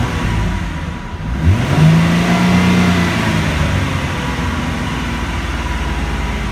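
A car engine revs up as the throttle is pressed, rising from idle to a higher steady drone and holding there, close and fairly loud with no talking.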